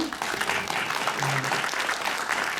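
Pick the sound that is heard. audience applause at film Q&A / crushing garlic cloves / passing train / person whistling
audience applause at film Q&A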